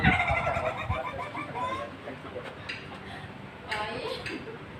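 Several chickens cluck and call close by in a lively, continuous patter of short clucks, with a few louder squawks rising over the flock.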